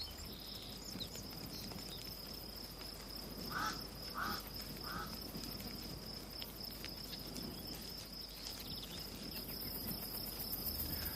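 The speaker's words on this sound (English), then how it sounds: "Mormon crickets gather once a year to mate, and the chosen site swarms with suitors." A swarm of Mormon crickets gathered at a mating site, calling in a steady high-pitched shrill that runs throughout over a dense rustling bed, with a few brief chirps standing out midway.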